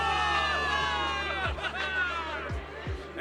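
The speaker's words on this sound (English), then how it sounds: "Give it up for yourselves, soldiers! Cheer for victory!" A crowd of soldiers cheers a victory in a video game, a loud mass of shouting voices and whoops layered with a few sharp thumps, swelling together close by.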